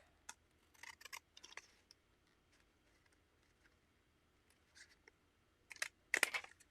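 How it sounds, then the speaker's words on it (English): Scissors snip through several stacked sheets of paper at close range in a quiet room, with scattered short crisp cuts that come in small clusters and a louder burst of snipping near the end. "We'll just take the scissors and kind of help it along on the back."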